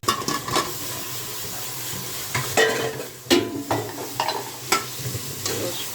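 Tehari, a spiced rice dish, being stirred in a cooking pot: a spoon scrapes and clacks against the pot in irregular strokes over a soft background sizzle, with no talking.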